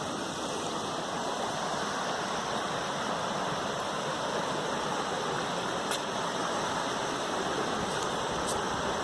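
Continuous river water rushes and flows past at close range, a steady broadband wash with no pauses, during a bushcraft trip on a bike ride through Karnataka.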